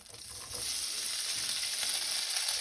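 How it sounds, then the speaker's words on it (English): Spaetzle dumplings searing in brown butter crackle with a steady, close hiss that swells after a brief quieter start and holds loud and continuous, with no talking. "now you're going to sear it in some brown butter"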